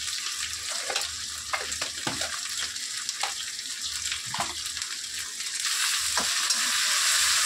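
Fish fries in a covered pan, a continuous sizzling hiss with repeated sharp pops and spatters at irregular intervals, close up, the hiss growing louder toward the end.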